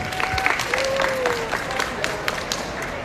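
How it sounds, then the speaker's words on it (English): Audience at a live horror fiction reading at Fancon 2022 gives sustained applause, steady and fairly loud throughout, with a voice and a tone audible over the clapping. "Can we get another round of applause for CM Forrest?"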